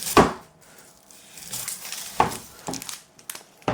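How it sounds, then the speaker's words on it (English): A Japanese stainless steel carving knife slicing through an onion, giving a few sharp crisp crunching cuts spaced apart, close and moderately quiet, without talk. "Cuts right through the onion too."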